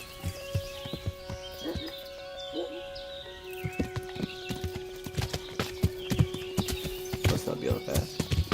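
A horse gallops in the medieval video game Kingdom Come: Deliverance with rapid, uneven hoof clip-clops close by. A steady drone sits underneath, and an occasional whinny comes in.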